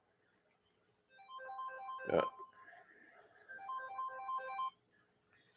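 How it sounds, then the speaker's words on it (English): A mobile phone rings with a repeating electronic melody in a room, faint and somewhat distant, with a brief voice murmuring and a thump partway through. "my phone is ringing, but it's not ringing my home phone"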